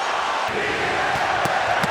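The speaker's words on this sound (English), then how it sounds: "Crowd chanting, "Si se puede."" Boxing arena crowd at a Pacquiao versus Marquez fight chanting "Si se puede," a dense roar of many voices filling the hall, steady and loud with a few sharper shouts rising out of the din.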